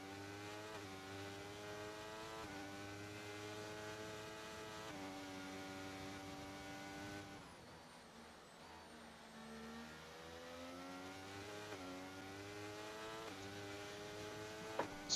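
Race car engines drone steadily in a Bahrain race of a racing video game, McLaren among the field, with rising and falling gear-change pitch sweeps, a brief lull midway, then continued revving at constant loudness.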